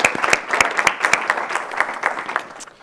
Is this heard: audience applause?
yes